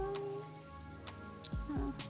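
Steady rainfall inside the farming video game Adarin Farm, a continuous patter on surfaces with a soft constant hiss, mixed with faint game tones and brief musical blips.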